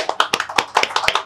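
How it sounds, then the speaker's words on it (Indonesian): A brief burst of scattered clapping from a small studio audience at a finance talk show, a few distinct hand claps over about a second. "Boleh tepuk tangannya dong."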